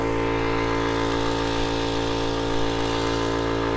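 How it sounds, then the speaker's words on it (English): Impact wrench working on a bolt of a Generac stand-by generator during disassembly, a loud steady mechanical whir with a hard rattling drive that runs continuously, close up, with no talk. "And then I have this impact wrench. We're going to try that on this and try to remove that."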